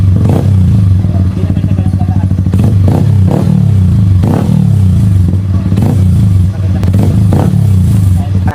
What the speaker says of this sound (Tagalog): Subukan naman nating tanggalin yung silencer niya kung anong tunog niya kapag walang silencer mga boss.